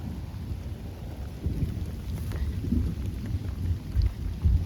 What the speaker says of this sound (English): the thunder is telling me I should not linger